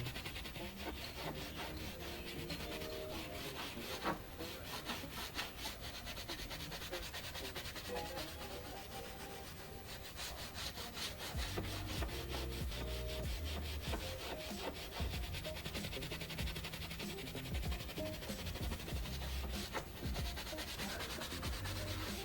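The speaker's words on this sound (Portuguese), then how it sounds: "E continua a parte da esfregação." A leather car seat is scrubbed with a cleaning product, giving a continuous, quiet brushing and rubbing that stays close and even throughout, with no talking.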